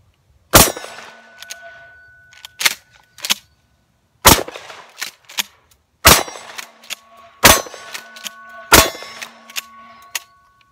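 A Mossberg 500 12 gauge shotgun with an 18.5-inch barrel fires six loud, sharp shots, each followed by a ringing metallic clang from a steel target, spaced a second or two apart with brief quiet between.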